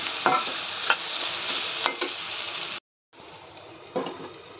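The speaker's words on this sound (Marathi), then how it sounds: "थोडंसं याला तेल सुटेपर्यंत परतून घ्यायचं आहे आपल्याला" Masala sautés in oil in a pan, a dense close sizzle with occasional scraping clinks of a spatula, briefly cutting to silence before the frying hiss resumes.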